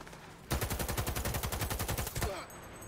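Rapid automatic gunfire in the Cyberpunk video game, a loud, steady burst of about two seconds with evenly spaced shots, close up and without talk.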